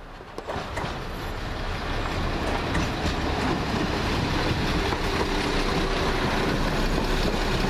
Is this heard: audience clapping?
no